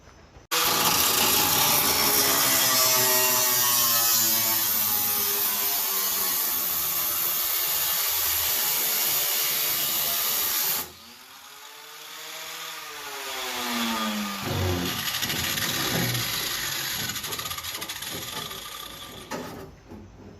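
A cut-off wheel slicing through the sheet metal of a 1960s Ford Mustang's trunk, a loud continuous grinding whine that stops abruptly partway through, then a quieter spin-down and a second, rougher cutting pass follows.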